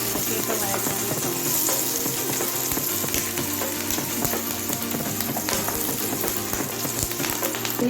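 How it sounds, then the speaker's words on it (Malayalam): Green chillies and curry leaves sauté in hot oil in a pan with a dense, steady crackling sizzle that holds loud and even throughout, with no talk over it. "2 പച്ചമുളക്, കുറച്ച് കറിവേപ്പില എല്ലാം കൂടി നന്നായി ഒന്ന് വഴറ്റിയെടുക്കും."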